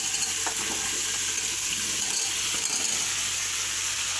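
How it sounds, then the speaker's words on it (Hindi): Vegetables, including radish and fenugreek, go into a hot pan for a mixed veg curry, raising a steady broad sizzle that stays loud and close with faint stirring bumps and no voices. "इसको डालेंगे सब्जी को इसमें।"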